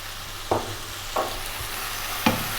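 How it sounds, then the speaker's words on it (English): Bacon sizzles in a hot pan with salt, pepper and oregano, a steady close frying hiss broken by three sharp scrapes of a utensil stirring the pan. "In goes the bacon."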